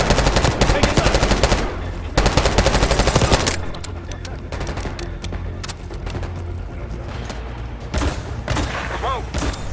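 Machine-gun bursts and scattered gunfire from a Call of Duty Black Ops 6 firefight, loud and rapid in dense rattling volleys for the first few seconds, then thinner continuing shots with faint voices in the background.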